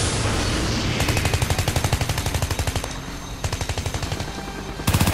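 Rapid automatic gunfire rattles at a GDI base in the video game Renegade X, with dense bursts of repeated shots over a loud, continuous battle din, briefly easing before another close burst erupts at the end.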